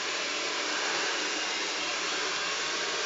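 A hairdryer blow-drying hair with a brush runs as a loud, steady, broadband whoosh that holds without a break from start to finish, close by and alone.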